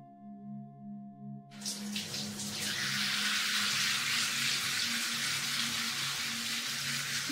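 Shower water runs steadily through a hair wash at a salon, a close, continuous broadband hiss that starts abruptly after a quiet hum and carries on alone without talk.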